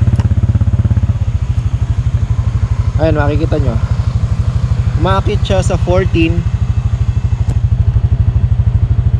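A Honda Click 125i motorcycle engine idles steadily up close with a fast, even pulsing throughout, while someone talks over it in short bursts.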